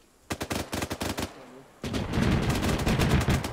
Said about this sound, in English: It's a sniper rifle down there to the south somewhere.